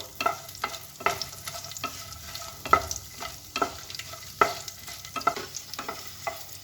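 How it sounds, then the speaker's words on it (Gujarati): Cardamom, garlic, a chunk of ginger and red chillies fry in oil in a pan, a low sizzle broken by frequent sharp scrapes and taps of a spoon stirring in an uneven rhythm. "ઇલાયચી નાખવી, થોડુંક લસણ નાખીશું અને એક આદુનો કટકો નાખી દઈશું। હવે આ બધું આપણે સાંતળી દઈશું।"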